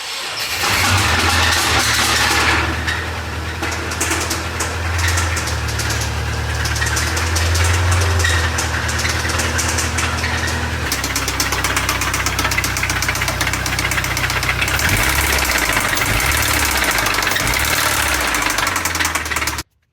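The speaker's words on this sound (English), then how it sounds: "that is the familiar sound of a comprehensively blown up Subaru engine" A blown-up Subaru engine in a 2004 2.5TS cranks, catches and runs loudly, with a harsh rhythmic knocking clattering throughout before cutting off abruptly at the end.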